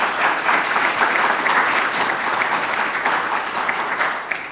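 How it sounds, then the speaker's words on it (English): An audience applauds a panel at a university research progress event: steady, dense clapping from a large crowd, loud and continuous throughout with no talk over it. "Let's give our panel a round of applause."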